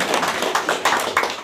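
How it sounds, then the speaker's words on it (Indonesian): An audience claps hands at a neighbourhood RT election gathering in a village hall, a steady close patter of many hands running through the whole moment with no talk over it. "Kita tepuk tangan."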